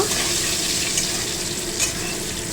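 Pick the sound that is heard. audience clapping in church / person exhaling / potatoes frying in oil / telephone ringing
potatoes frying in oil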